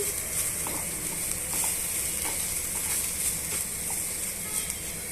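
Sliced okra (bhindi) frying in a pan while being stirred, for bhindi fry: a steady, loud sizzling hiss with soft, irregular scraping strokes from the stirring, and no talk.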